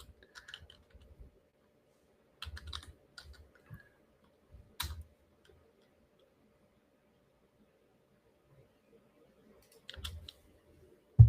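Quiet, sparse bursts of clicks from typing on a computer keyboard, short clusters of keystrokes separated by long pauses.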